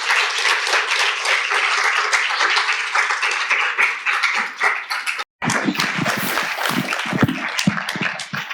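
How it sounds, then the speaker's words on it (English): Audience at a university panel event gives a sustained round of applause, dense and loud, breaking briefly before resuming with sharper, more scattered claps. "Let's give them a round of applause."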